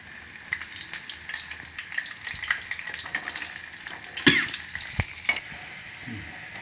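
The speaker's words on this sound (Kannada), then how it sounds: "ಸ್ವಲ್ಪ ಮೀಡಿಯಮ್ ಫ್ಲೇಮಲ್ಲಿ ಫ್ರೈ ಮಾಡ್ಕೊಳ್ಳೋಣ." Rava aloo snacks fry on a medium flame, a steady close sizzle of oil with scattered crackles and a few sharper pops near the end.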